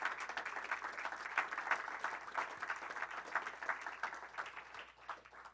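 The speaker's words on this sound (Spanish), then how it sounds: "Denle un aplauso al Señor" A church congregation claps in praise during a sermon, a fairly faint but steady burst of many hands that swells in waves and tapers off toward the end.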